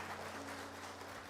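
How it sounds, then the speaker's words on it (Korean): Applause from a church congregation during a Sunday morning worship service, a steady wash of clapping that carries through the whole short moment at moderate volume with a faint low hum beneath. "우리 한 번 더 박수 부탁합니다"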